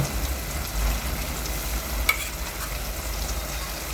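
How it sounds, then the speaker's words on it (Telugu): Ginger paste frying in a pan with tomatoes for a village-style farm chicken curry, giving a steady, even sizzle and hiss throughout, fairly loud and close, with one brief clink partway through and no speech. "ఇప్పుడు అల్లం పేస్ట్ అయితే వేసేసుకుందాం"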